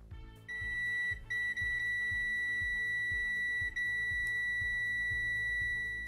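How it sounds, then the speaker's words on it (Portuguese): A steady continuity-test beep from an Aneng Q1 multimeter checking a cable rings continuously, briefly broken a few times, with soft clicks and handling noise underneath. "Se ele tocar um bip contínuo, quer dizer que o cabo está íntegro."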